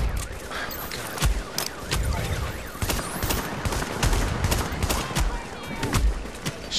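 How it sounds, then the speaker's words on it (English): Dense gunfire in The Division's Dark Zone, a heavy fusillade of rapid automatic bursts and single sharp shots that hammer continuously and loudly, with a voice talking underneath. "I'm getting shot at so hardcore"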